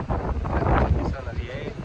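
Gusty wind buffets the microphone on a long beach in Cuba, a loud, continuous rushing roar that swells and eases throughout.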